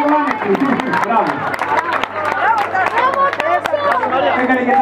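Audience clapping and cheering for runners at a children's race in a Greek village street, a steady patter of hands mixed with crowd chatter while someone speaks over a loudspeaker throughout.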